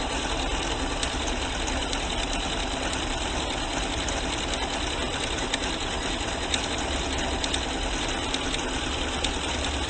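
A sewing machine running continuously while stitching tapering stitches, a steady fast mechanical whir with a faint rhythmic ticking, alone and unbroken from start to finish.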